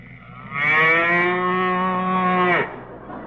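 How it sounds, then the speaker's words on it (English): A cow's long, loud moo from a 1945 radio comedy show, a single sustained bellow lasting about two seconds with a rich harmonic tone, standing alone with no talk over it. "You're going to put a cow in our backfield?"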